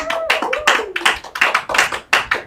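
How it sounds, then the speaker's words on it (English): A studio audience claps to welcome a guest onto a TV show, giving brief, close, uneven applause made of sharp overlapping hand claps. "A nice warm round of applause and welcome to the show, Joy Brand."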